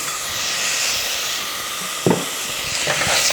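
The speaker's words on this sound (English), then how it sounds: "Give it a stir around." Grated ginger stirred into onions frying in a pan, a continuous hiss and sizzle with a short sharp scrape of the utensil midway and light stirring clatter after.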